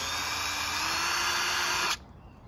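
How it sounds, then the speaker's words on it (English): A power drill bores a small pilot hole for mounting an outdoor shower to a van's bumper, a steady, close high-pitched whine lasting about two seconds before it cuts off abruptly. "I'm going to drill a little pilot hole"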